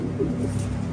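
Pigeons in a loft give low, soft rolling coos over a steady murmur of birds close by, with no talk.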